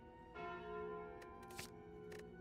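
Calling Bell relic in the video game Slay the Spire ringing, a quiet sustained bell tone with shimmering harmonics and a few short bright chime accents over a soft background.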